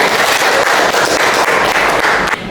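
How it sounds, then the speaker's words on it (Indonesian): Classroom applause during a microteaching lesson, a loud, close burst of many hands clapping continuously for a couple of seconds before easing slightly at the end. "Ya, tepuk tangan untuk kita semua."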